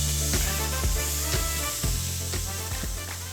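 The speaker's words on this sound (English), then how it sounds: "Black pepper beef on a sizzling platter" Steady, loud sizzling of black pepper beef on a very hot sizzling platter, with crackling pops throughout and a low background hum.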